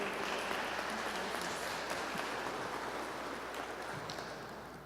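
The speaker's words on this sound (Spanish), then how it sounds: "le damos un fuerte aplauso a la doctora y la más cordial de las bienvenidas" Audience applause at a talk, a steady, dense wash of clapping from a room full of people that fades slightly toward the end, heard at a distance and fairly faint.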